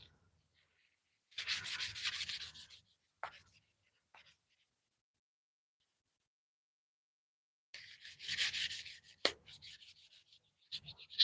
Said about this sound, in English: This is still sanding at 600 grit.